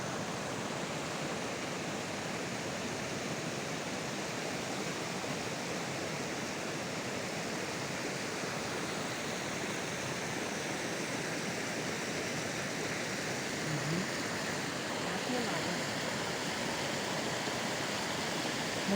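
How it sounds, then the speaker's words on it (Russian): Mountain waterfall fed by melting snow in the Norwegian Alps, a steady, dense rushing roar of falling water that stays constant and fairly close throughout with no other sounds. "Вот водопад берет начало здесь."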